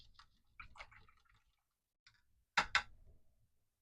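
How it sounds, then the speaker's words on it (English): A paintbrush rinsed in a water cup during a painting session, giving soft splashing and dripping swishes that start quietly and swell into a louder wet burst near the end. "Rinse out that brush."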